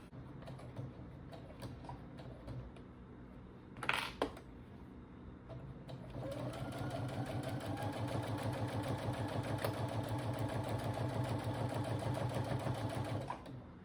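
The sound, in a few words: sewing machine sewing a tote bag together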